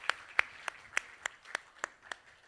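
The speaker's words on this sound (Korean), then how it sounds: "박수 올려드리겠습니다" A congregation claps during a Sunday worship service in a church, with about nine claps in a steady, even beat, fairly sharp and close.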